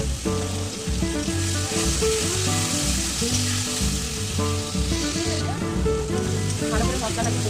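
Ginger-garlic paste and spices sizzle in hot oil with tomato in a pan, a steady fry running throughout, with cooking clatter and a voice talking over it.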